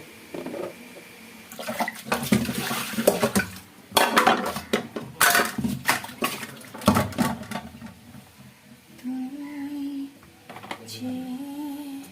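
Pots and pans clatter and knock against each other while being handled and washed in a home kitchen, with bursts of clanking, scraping utensils and running water; loud, close and irregular, with no voices.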